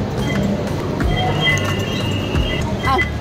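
An MRT metro train in Metro Manila running, giving a continuous rolling rumble with high metallic wheel squeals and a ringing tone, loud and close, while voices murmur in the background.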